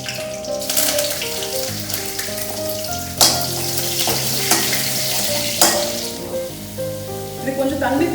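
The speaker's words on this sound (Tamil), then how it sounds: "நான் கடுகு உளுந்து பருப்பு தாளிச்சிட்டு" Mustard seeds and urad dal sizzle and crackle in hot oil in a home kitchen, a loud steady frying hiss with sharp popping bursts and stirring clatter throughout.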